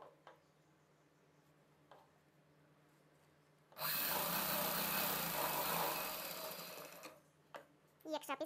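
A sewing machine stitches a blouse in one continuous burst of about three seconds, loud and close, with quiet sounds before it and a short clatter afterwards.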